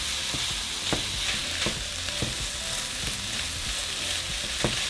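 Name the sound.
pork frying with garlic and onion in pan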